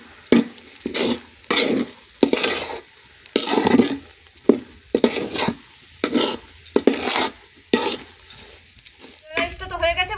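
Fried spice masala stirred into chicken in a pan for kala bhuna, rhythmic scraping stir strokes with light utensil clinks over a soft sizzle, a brief metallic rattle at the end, and no voices.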